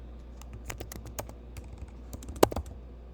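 Computer keyboard keys tapped while writing code, a steady scatter of light, close clicks with a few louder key strikes near the end, no voices.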